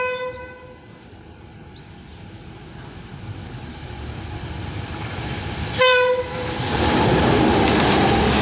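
A train horn sounds with a steady tone at first, then blasts again loudly as train 527 rumbles closer and passes Buriram station in Thailand.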